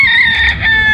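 A young stag rooster, a Kanawayan crossed with Boston, gives a loud, close crow, captured as a short sustained fragment of its call.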